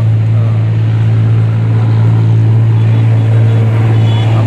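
A stunt tractor's engine idles in a loud, steady low drone that holds without change throughout, close by and with no talk.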